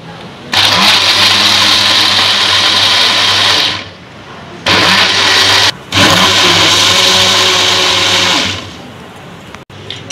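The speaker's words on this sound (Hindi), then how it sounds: "अब हम इसको ब्लेंड कर लेंगे।" A kitchen blender whirs loudly through sabudana custard and dates for a shake, running in two long bursts with a brief stop and restart between them, its steady motor drone cutting off cleanly at the end.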